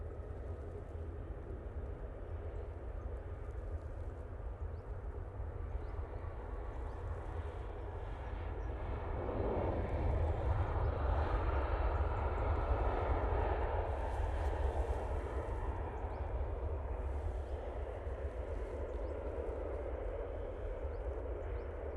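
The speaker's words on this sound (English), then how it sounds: "we have this Etihad, absolutely stunning aircraft" An Etihad airliner flies over Manchester Airport, its jet engines a steady distant rumble that swells to a louder roar midway and then eases off.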